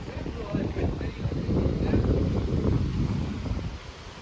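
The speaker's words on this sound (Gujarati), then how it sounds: "દરિયો આવેલો છે મસ્ત મજાનો." Wind buffets the microphone on a seashore, a dense roaring rush of air and surf that stays loud and steady for the whole stretch, with no distinct individual waves standing out.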